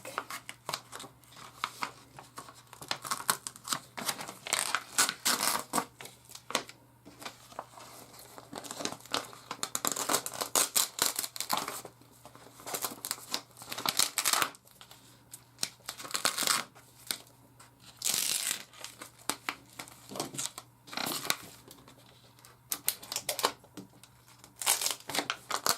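Excess heat transfer vinyl being peeled off its carrier sheet for a cork board teacher gift, steady crinkly crackling and tearing rustles heard close up, in irregular pulls with brief pauses and no talking.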